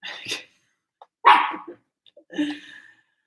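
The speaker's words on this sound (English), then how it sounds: "Stand near me and bark." A dog barks close by indoors in three short, sharp bursts separated by brief pauses, with a couple of faint yips in between.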